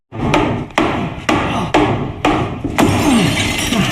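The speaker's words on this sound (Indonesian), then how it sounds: "Di sana Ian akan menggunakan batu sauna untuk menjebol kaca" A heavy sauna stone repeatedly smashes against thick glass in a film scene, six loud, sharp impacts roughly every half second, each a hard crack with ringing shatter and debris rattling between blows.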